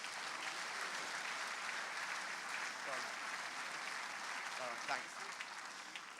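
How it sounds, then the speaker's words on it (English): A crowd applauds at the final of a world lawn bowls championship, dense and sustained clapping throughout, fairly distant, with faint voices mixed into it. "Give yourselves a round of applause."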